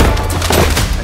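Gunfire bursts loudly in a tense film standoff, a dense, booming volley that fills the whole second with sharp cracks over a heavy low rumble.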